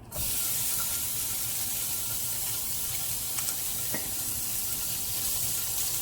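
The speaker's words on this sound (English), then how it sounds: "I'm going to cook the pork meat in the pork fat so we get the flavour" Pork pieces fry in fat rendered from pork trimmings, with no added oil, for Bicol Express: a loud, steady, dense sizzle runs the whole time, with a few faint clinks near the pan.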